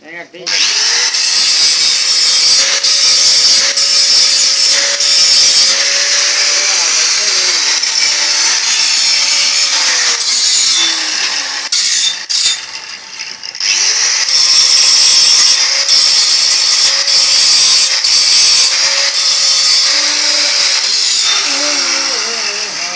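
A power saw cuts steel for railings at a metal fabrication shop, making a loud, continuous high-pitched grinding whine that runs almost without break, dips briefly near the middle and resumes. Faint talk can be heard underneath.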